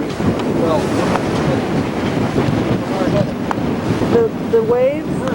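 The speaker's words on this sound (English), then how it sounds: "Because it's so windy." Strong wind buffets the microphone while waves wash against a boat, a steady rough roar with faint voices underneath.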